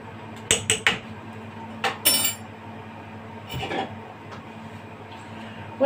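A metal utensil clinks and scrapes against a pot as a basmati rice mixture with salt, dried lemon and bay leaves is stirred, giving a few sharp close knocks in quick succession, then quieter scraping.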